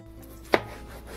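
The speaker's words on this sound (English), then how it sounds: "So we're gonna finely chop half of a tomato." A knife chops through half a tomato on a board, giving a single crisp, close chop against a quiet kitchen background with no talk.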